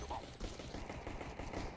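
Gunfire in a competitive video game match sounds as a short burst of rapid, fairly quiet shots rattling off in quick succession, with no talk.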